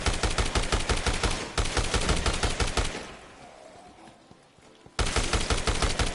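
Rapid machine gun fire in Dead Rising Deluxe Remaster, loud close evenly spaced shots in a long burst, a short pause with quieter background, then the steady automatic fire resumes.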